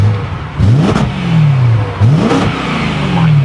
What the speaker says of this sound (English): I'm gonna probably rev it.